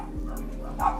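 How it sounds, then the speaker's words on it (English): Dogs bark from inside a house during a doorstep prank, two short barks muffled behind walls over a low constant hum, with a person's voice nearby. "Dogs."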